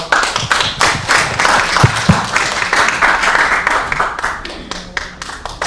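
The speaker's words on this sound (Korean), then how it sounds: "앞으로 모시다 큰 박수 부탁드리겠습니다" Applause from a conference opening ceremony audience welcoming a speaker to the stage, a moderately dense round of clapping with some louder individual claps standing out, tapering slightly toward the end.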